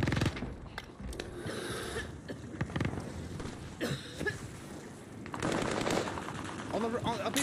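Automatic gunfire from a Call of Duty Warzone match, with rapid bursts crackling through the whole stretch and growing heavier near the end, mixed with game noise and occasional voices.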